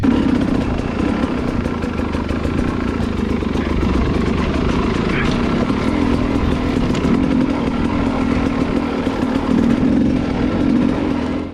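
Hard enduro motorcycle engine running steadily through an off-road section, a continuous droning buzz with a slightly raised idle, close and loud throughout with small throttle variations.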